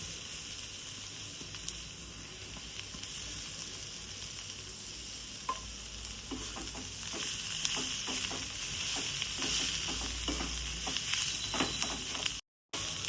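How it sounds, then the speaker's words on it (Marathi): Kuda flower vegetable stir-fried with turmeric and chili powder in a pan, giving a steady low sizzle with scattered scraping clicks of stirring that grow busier midway, heard alone without voices. "व्यवस्थित सगळं मिक्स करून घ्यायचं आहे छान भाजीला परतून घ्यायचं आहे"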